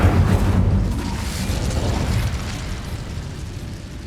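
A burst of fire bursts out as the Incendio spell is cast in the Hogwarts Legacy video game, a muffled whooshing boom that fades over a few seconds, moderately quiet.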